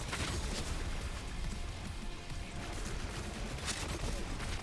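Ion Cannon heavy weapon firing in the Borderlands 3 video game, a dense, sustained roar of blasts with crackling bursts that holds loud and steady throughout, no voices over it.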